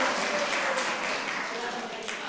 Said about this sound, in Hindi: ताली बजाओ भाई इसके लिए